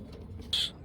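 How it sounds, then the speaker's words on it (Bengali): A pair of Saharanpuri pigeons makes a single short, soft call over quiet background noise. "এক পেয়ার সাহারানপুরি কবুতর"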